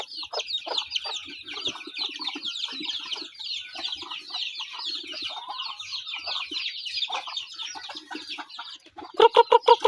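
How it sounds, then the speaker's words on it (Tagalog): Chickens on a muddy rural farm clucking and chattering busily in a flock nearby, a dense overlapping stream of calls that ends in a few louder sharp clucks. "Yan, yung manok ko."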